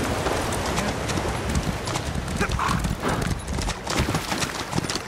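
Steady clip-clop of horse hooves trotting close by in Elder Scrolls Online, with a brief whinny partway through and faint voices in the background.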